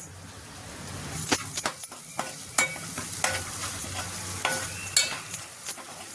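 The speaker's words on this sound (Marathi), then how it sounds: "आणि छान हलवून घ्यायचं." Homemade masala being stirred into hot oil with fresh green chickpeas for a village-style sabzi: a steady sizzle under repeated sharp clinks and scrapes of a spoon against the pan, close and fairly loud, with no talking.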